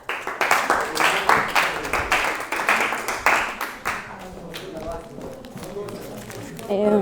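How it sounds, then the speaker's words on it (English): A classroom of students claps their hands in a quick, uneven rhythm that is loud at first, then thins into scattered claps, with voices talking over the later part. "clap your hands for them"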